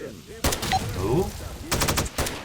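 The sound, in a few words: gunshots in the video game STALKER Narodnaya Solyanka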